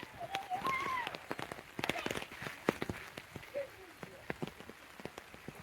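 The first monsoon rain in a rural village falls on surfaces in steady patter, with distinct near drops and splats and occasional faint high calls or voices in the background.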